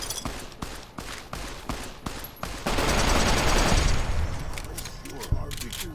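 Rapid bursts of gunfire from a newly acquired gun in a video game, sharp repeated shots at first, then a dense sustained volley, loud and close, with a voice talking over parts of it.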